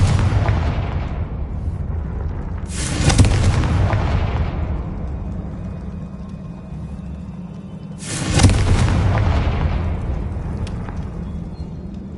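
Two booming blasts of the Confringo explosion spell in a Harry Potter video game, each a sharp loud burst trailing into a rumbling decay, spaced about five seconds apart over a steady low background.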